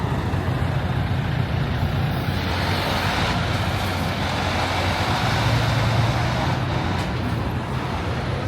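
A truck idling and creeping through dense Manhattan street traffic near Grand Central, a loud steady low engine rumble layered with broad roadway noise and passing cars, continuous throughout.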